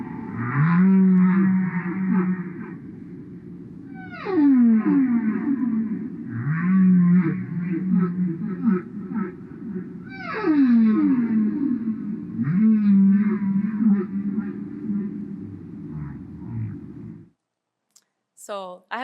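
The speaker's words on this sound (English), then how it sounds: "So they've had a multi-platinum record of humpback whale songs, which you can buy if you want." Humpback whale song plays loud and close: long moaning low tones alternate with rising whoops and sweeping upper cries in repeating phrases, each separated by short pauses, then it stops abruptly at the end.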